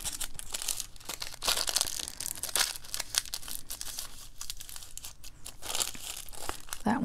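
Thin rice paper being folded into an envelope, giving close, continuous crinkling and crackling with sharper papery rustles and bursts throughout, no voices.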